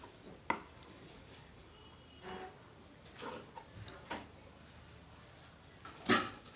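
Scissors cut cloth for a dori in a tailoring class, giving a few soft, sparse snips spaced seconds apart against a quiet room, with a sharper cut near the end.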